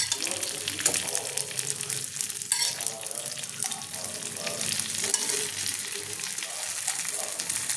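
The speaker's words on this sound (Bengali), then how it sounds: "এবার অল্প আছে ভাজতে হবে আমি সব কটা দিয়ে দেবো" Bengali-style fritters of pumpkin leaves, rice and dried lote fish sizzle steadily in shallow oil, a continuous close frying hiss with small crackles throughout.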